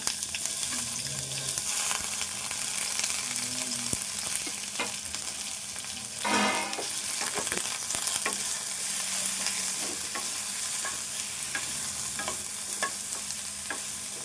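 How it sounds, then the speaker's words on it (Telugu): Bottle gourd pieces fry in a little oil in a pan for a sesame chutney, giving a steady, close sizzle with intermittent scraping stirs throughout. "ఇందులో కొంచెము ఆయిల్ ఉంది సరిపోద్ది సొరకాయ ముక్కలు కూడా ఇందులో వేసుకుందాము"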